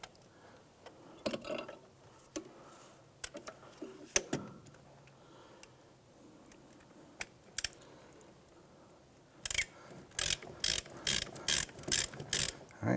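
A ratchet tightening a bolt into aluminum while fitting a CV axle assembly on a 2008–2013 Nissan Rogue, with scattered clicks and knocks early on, then a close run of sharp, rhythmic ratcheting bursts.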